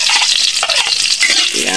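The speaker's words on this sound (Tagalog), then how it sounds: "Nilagay na ang bawang." Garlic frying in a pan, a loud, dense hiss of hot oil close up, with scraping stir strokes of a utensil breaking through the sizzle, no talking.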